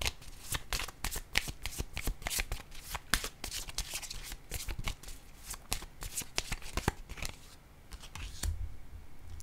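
A deck of cards handled and shuffled close by, a rapid run of crisp riffling snaps and clicks that thins out toward the end, with no speech.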